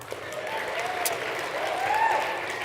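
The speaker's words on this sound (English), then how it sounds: "Let's clap for them." Sustained applause from an event audience at a winter speaker series livestream, a dense, even clatter of many hands that swells slightly toward the end, with a faint voice briefly audible underneath.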